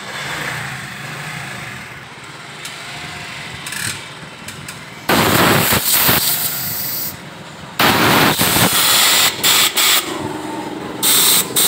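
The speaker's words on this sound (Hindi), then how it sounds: "इनको भी हम हवा से अच्छी तरह साफ़ करके फिर लगाएंगे।" Compressed air blasts clean the carburetor petrol jets of a 2012 Honda CD 70 motorcycle in a workshop, with loud hissing bursts of varying length after a quieter stretch.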